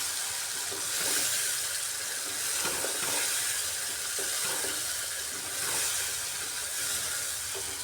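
Masala spice paste being sautéed for a pointed gourd (potol) recipe, giving a steady, moderately loud sizzling hiss with some wet frying crackle throughout, no voices.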